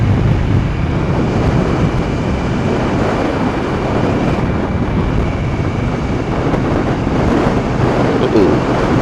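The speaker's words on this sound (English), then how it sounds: "I can feel that wind pushing against me" Wind rushes past a rider on a 2017 Victory Octane motorcycle at 45 mph, a constant loud buffeting roar with engine rumble underneath.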